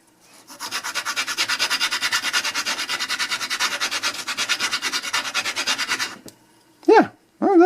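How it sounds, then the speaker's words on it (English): Rhythmic back-and-forth sanding on a bandsaw-cut metal piece for about six seconds, a steady rasping scrape, followed by a short pause and a brief squeaky sound. "Let's see if I can actually do some sanding."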